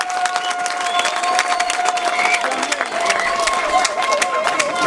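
Applause from a crowd at a school ceremony honouring a visiting general at his former school, steady and fairly loud throughout with a sustained tonal whistle or hum running underneath and light crowd noise mixed in.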